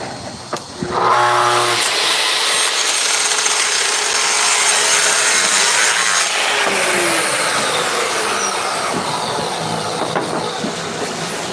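A power saw cuts through plastic sheet laid on foam board at a construction-site workbench, one loud, continuous rasping cut lasting about ten seconds after a brief motor spin-up, close to the listener.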